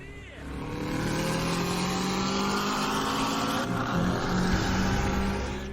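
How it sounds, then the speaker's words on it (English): A Porsche Cayenne drives and accelerates as its engine builds into a strong, sustained drone with rising tones, heard from inside the car under a smooth, continuous road roar. "Wow, how smooth is the car going?"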